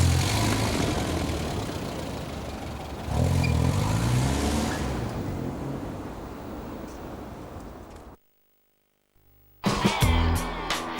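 A Ford Mondeo car engine runs steadily, rising in level partway through, then cuts to near silence before a loud burst of engine sound returns at the end.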